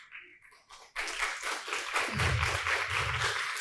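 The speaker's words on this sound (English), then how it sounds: "The applause speaks for itself." Audience applause at a London museum and gallery event, starting abruptly after a quiet moment and holding as steady, dense clapping for several seconds, loud and close.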